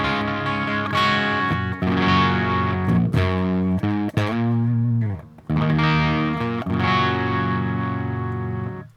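An electric guitar played through the Audio Assault Bulldog Super Lead amp simulator with slight distortion, ringing chords and sustained notes with crunchy breakup, loud and alone with a brief pause midway.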